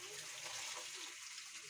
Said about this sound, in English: I will add water